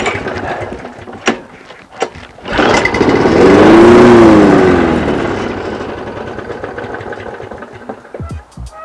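Lawn mower engine is pulled a couple of times, catches and roars up loudly at close range, then settles into a rough, slightly uneven running note.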